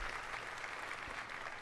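A crowd of attendees at a gaming showcase event claps together in a steady, dense patter of applause, fairly faint and distant, with no talk over it.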